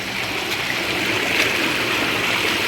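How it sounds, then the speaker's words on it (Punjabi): Fast-flowing wastewater from a liquor factory rushing steadily through a drain, a continuous loud wash of churning noise with no pauses. "ਨਾਲੇ ਦੇ ਵਿੱਚ ਪੂਰਾ ਚੰਗੀ ਤਰ੍ਹਾਂ ਪਾਣੀ ਬਹੁਤ ਤੇਜ਼ ਵਹਾਅ ਨਾਲ ਜਾ ਰਿਹਾ ਜੀ"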